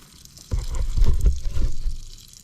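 Water splashes and trickles out of the radiator of an old vehicle that has not run in 17 years, a short close pour that swells and then eases off.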